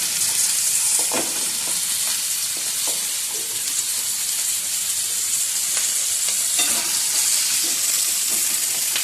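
Potatoes with turmeric sizzling in a hot pan, a loud continuous frying hiss with occasional stirring scrapes, close and steady throughout without voices.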